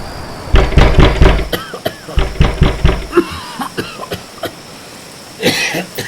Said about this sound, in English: the dry coughs of the driver could be heard in the semi-dark space of the alley